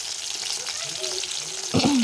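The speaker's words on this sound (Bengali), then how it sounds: "কড়াইয়ে সাদা তেল বসিয়ে দিয়েছি তেল গরম হতে দিয়েছি এবার একে একে চিকেন পকোড়াগুলো সব দিয়ে চেষ্টা করে দিয়ে দিচ্ছি" Chicken pakoras frying in hot white oil in a wok, a steady close crackling sizzle throughout, with a brief voiced sound near the end.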